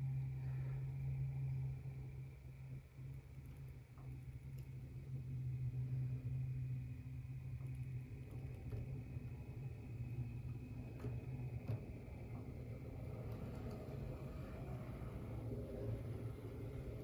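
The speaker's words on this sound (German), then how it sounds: "die fährt schon wirklich sehr gut, die Lok. Sehr ruhig." A Roco model locomotive runs on track, slowly picking up speed. It gives a quiet, steady motor hum and rumble that stays low and even throughout.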